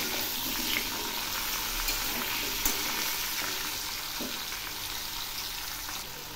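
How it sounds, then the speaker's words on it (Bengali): Drumstick vegetable pieces with salt and turmeric sizzle steadily in a pan, a faint continuous frying hiss with only a few soft stirring knocks and no voices. "এখন আমি দিচ্ছি সজনেগুলো, দিচ্ছি স্বাদ মতো লবণ, পরিমাণ মতো হলুদ। এবার আমি এগুলি নেড়ে দিচ্ছি।"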